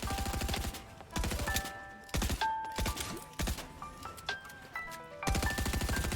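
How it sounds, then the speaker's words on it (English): SMG fire against a building wall in Fortnite, rapid bursts of gunshots in several separate volleys, with ringing tonal hit and build sounds between them. "Trying to use my SMG to take his wall because it's faster than using a pickaxe."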